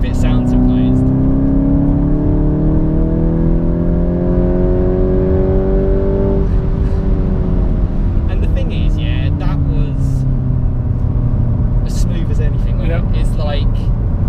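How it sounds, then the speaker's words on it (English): A VW Golf MK8 GTI Clubsport 45 engine pulls loudly from inside the car, its pitch climbing then dropping at a shift, followed by another rise with brief clicks and a voice over it. "It's a good noise on the upshifts."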